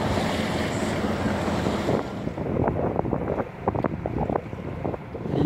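Sailboat under engine power heading back toward Gibraltar, a steady broadband rumble of motor and wind buffeting the microphone, with water slapping against the hull in irregular bursts throughout.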